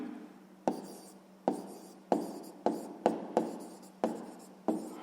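A pen writing down a math answer by hand on paper, a quiet series of about eight distinct scratching strokes, each starting sharply and fading, evenly spaced and close up.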